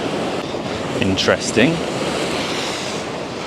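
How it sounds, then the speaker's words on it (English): Ocean waves breaking at Botany Bay, Kent, coming in diagonally: a steady roar of surf with wind noise, loud and continuous, with a brief spoken word from a person near the start. "these waves are sort of coming diagonally"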